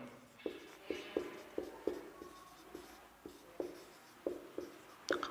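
A pen scratches out numbers in ascending order for a maths lesson on finding the median, making short, regular strokes about twice a second, close and dry, with no talking.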